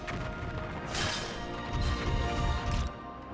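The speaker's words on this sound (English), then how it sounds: "Shattering" A shattering smash from the video game Valkyria Revolution, a bright crash of breaking debris about a second in, followed by heavy thuds and rumbling impacts over a dense game mix, with no talking.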